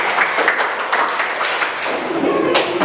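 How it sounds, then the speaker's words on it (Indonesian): Students in an Indonesian classroom clap for a classmate, a brief patter of hands that stays close and moderate, uneven rather than rhythmic, with no voices over it. "tepuk tangan untuk Alexa"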